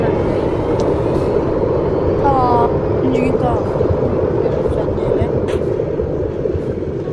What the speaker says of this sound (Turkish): Uçaklar kalktı galiba.